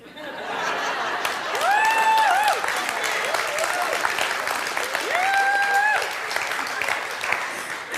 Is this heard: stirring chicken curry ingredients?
no